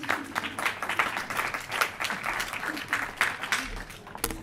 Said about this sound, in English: Light technician, everybody. Round of applause.